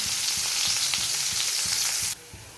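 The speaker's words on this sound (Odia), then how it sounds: "ପିଆଜ ଆମର ଭାଜି ହେଇ ଆସିଲାଣି" Sliced onions frying in oil, a steady close sizzle broken by soft rhythmic stirring scrapes, cutting off abruptly near the end to near quiet.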